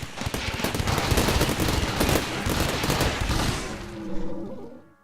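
Rapid machine-gun and rifle bursts crackle almost nonstop in a RimWorld colony battle, a dense, loud barrage of overlapping shots that thins out and fades near the end.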